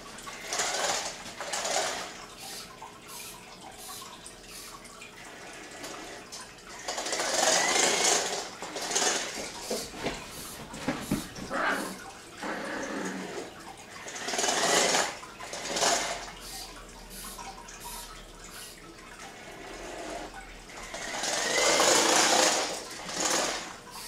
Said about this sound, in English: when I activate this robot, it will walk this way and avoid that obstacle and continue on walking, avoiding obstacles